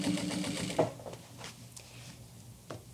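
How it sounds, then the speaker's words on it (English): A sewing machine stitches a jeans hem, a quiet rapid motor buzz in the first second that then stops, followed by faint handling noises. "we're going to aim to stitch right directly on top of where we started"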